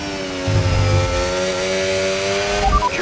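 A Formula 1 race car engine in the F1 25 video game, a loud, high-pitched, close onboard whine held at steady revs, shifting near the end, with no talking.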